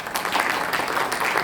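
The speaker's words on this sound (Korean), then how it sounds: "박수로 환영해 주시죠." Audience applause welcoming a professor introduced at an aviation security academic conference, a dense steady clapping from a large crowd, fairly loud and sustained throughout.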